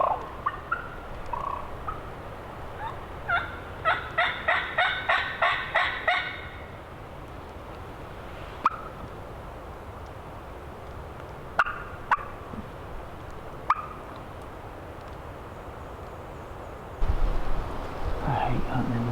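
A big bearded wild turkey gobbler in hardwoods on public land, heard during a hunt, gives a rapid rattling gobble series of about eight pulses, followed by sparse clicks, a dog-like bark and some quiet talk.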